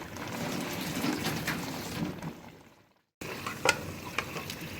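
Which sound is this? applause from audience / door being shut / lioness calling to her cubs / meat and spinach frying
meat and spinach frying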